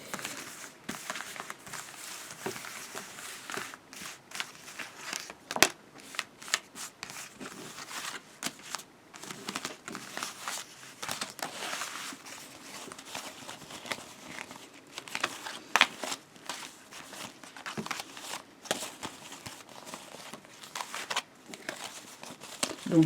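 Playing cards riffled and mixed by hand, a long run of close, crisp papery flutters and snaps in irregular bursts, quiet room with no talking.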